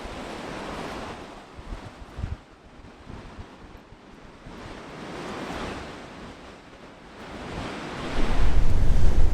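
Strong wind buffets the microphone on a Western Australian beach with a steady rushing roar and surf underneath, gusting louder toward the end.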